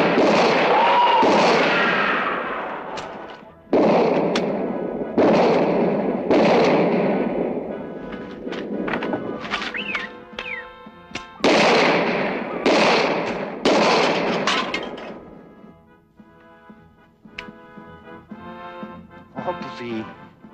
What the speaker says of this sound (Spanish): Ahora vamos a hacer una serie de 5 tiros cada uno.